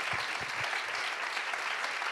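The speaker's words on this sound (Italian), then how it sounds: "Bene, un applauso meritatissimo," Sustained applause from an audience at the presentation of the 100th Arena di Verona Opera Festival, a dense continuous patter of many hands with a few low thumps early on, even and unbroken.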